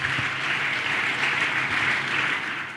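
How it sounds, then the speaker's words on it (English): An audience gives the Inspector General of Police another round of applause at a donation event, a steady, fairly loud stretch of continuous clapping with no talk over it. "Can we give the IGP of Police another round of applause?"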